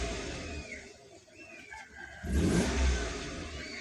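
A car engine revs up as the accelerator pedal is pressed, a rising roar that swells loud near the end after a quieter idle, heard alone without talk.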